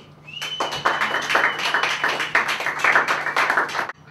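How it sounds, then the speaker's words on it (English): A comedy club audience gives a round of applause, sustained dense clapping that holds for about four seconds before cutting off sharply, with a low steady hum beneath. "please give him a nice round of applause"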